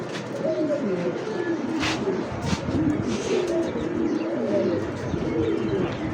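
A male pigeon cooing at a pigeon seller's stall, soft repeated throaty coos close by, with faint background chatter and some other bird chirps.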